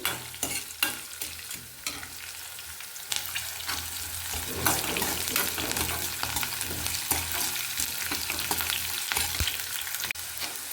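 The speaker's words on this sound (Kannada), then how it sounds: "ಹಸಿಮೆಣಸಿನ್ಕಾಯಿ ಚೆನ್ನಾಗಿ ಈ ಥರ ಫ್ರೈ ಮಾಡ್ಕೋಬೇಕು." Green chillies frying in oil in a pan for an amla rice breakfast dish make a continuous moderate sizzle, with repeated stirring scrapes and taps, louder through the second half.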